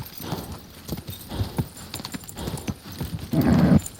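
Horse hooves clip-clopping in the medieval video game Kingdom Come: Deliverance II, a steady rhythmic trot of close, moderately loud steps with a brief louder burst near the end.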